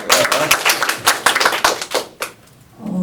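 A small audience at a student presentation claps in a short burst of loud, irregular hand claps that stops abruptly, followed by a brief pause and the start of a voice.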